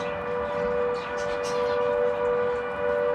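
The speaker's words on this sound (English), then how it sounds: "that is the flood warning siren for the River Nen" A steady flood warning siren for the River Nene wails at a distance, its sustained tone slowly swelling and fading, with no talking.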